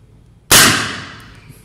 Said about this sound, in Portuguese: E agora vamos lá para o último disparo.